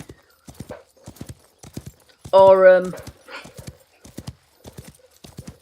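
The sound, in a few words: horse hooves clip-clopping in the video game Wild West Online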